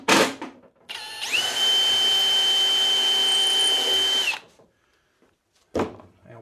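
A power drill drives screws into wood strips on a table saw dovetail jig. The motor whirs up to a steady, loud whine for about three seconds and then stops, with short scraping handling noises before and after.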